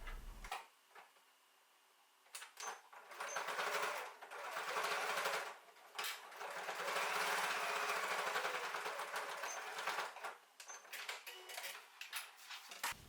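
A sewing machine runs in bursts of steady stitching across the raw edges of a boxy zipper bag, with short pauses between runs, close and clear with no talking.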